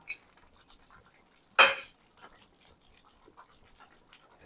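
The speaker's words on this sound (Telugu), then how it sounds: "వేయించి పక్కన పెట్టుకున్న మష్రూమ్స్ అయితే వేసేసుకుందాం." Fried mushrooms and cashews go into a curry pan, giving one short, sharp clatter of cookware in an otherwise quiet kitchen.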